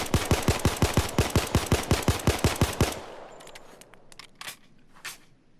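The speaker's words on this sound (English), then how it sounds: "Now I'm gonna try this, trying to fire as fast as I can without controlling the recoil." Glock 17 pistol emptied in rapid fire in the Payday 2 video game, a dense string of about twenty sharp, loud shots for three seconds, then a few faint clicks and rattles afterward.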